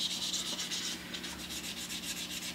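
Wet sandpaper rubbed back and forth over a guitar's finish during repair, working through fine grits, giving a steady series of soft, close rasping strokes with a regular rhythm and no talking.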